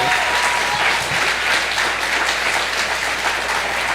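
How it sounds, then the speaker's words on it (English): Sustained applause from the audience at a mayoral debate, steady and dense throughout, with no voices over it. "give a round of applause to these people who are offering themselves for public service"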